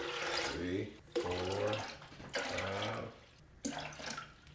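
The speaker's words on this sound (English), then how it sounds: "So I'm going to add 6 cups of water total." Water pours steadily onto soaked almonds in a blender jar with a broad, rushing splash, heard in several bursts while a person talks over it.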